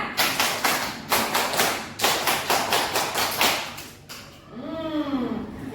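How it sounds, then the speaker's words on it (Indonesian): A group does a Pramuka scout clap together in a quick rhythmic pattern of short bursts for about four seconds, then a voice briefly speaks. "Tepuk pramuka."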